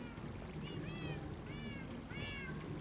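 A cat in Minecraft meows three times in quick succession, rising and falling tones over a constant low rumbling game background, fairly soft and with no talking.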